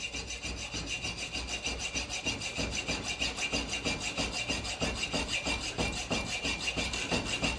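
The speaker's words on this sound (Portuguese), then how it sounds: "Eu quero cortar essas duas quinas aqui com a serra." Hand saw cutting the corners off a square wooden piece for a decorative wood stud, steady rhythmic rasping strokes, close and continuous, with no talk.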